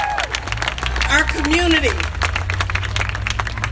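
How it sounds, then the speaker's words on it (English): Crowd at a rally breaks into applause, dense clapping and some cheering spread throughout, with a voice speaking over the top of it. "let me just give yourself a round of applause"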